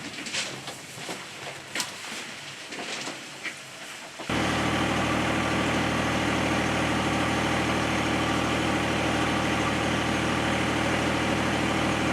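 Diesel engine of a directional boring machine on a residential underground cable and water run, a steady loud drone that jumps in level partway through as the throttle rises, with faint background noise before.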